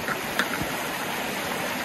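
A mountain river runs low over rocks where a hiking trail crosses it, giving a steady rushing wash of flowing water close by with no voices.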